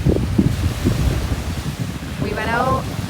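Strong beach wind buffets the microphone in a steady low roar, with surf and waves faintly beneath it and a brief muffled voice early on.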